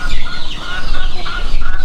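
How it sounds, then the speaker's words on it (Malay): A large laying hen clucking close by, a loud run of quick, choppy clucks with no pauses and no other sound competing. "Ini besar sekali ayamnya ni."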